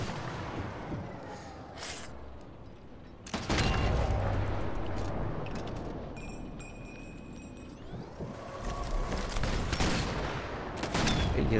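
Bursts of rapid gunfire and booms crackle through a noisy, dense soundscape, with sharp shots and a constant background roar from the video game Sniper Elite 4.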